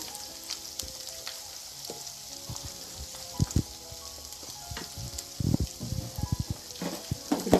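Small pieces of dried Bombay duck fish sizzle in oil with a continuous crackle, joined by scattered scrapes and knocks of a spoon stirring in the pan.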